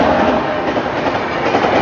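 The Falaknuma Express, running from Howrah to Secunderabad, rushes past close by, a loud, dense roar of a passing train with steady rail rumble and no voices.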